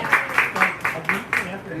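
An audience claps in a brief, loose burst at an evening event, with repeated sharp broadband clapping pulses close together for under two seconds.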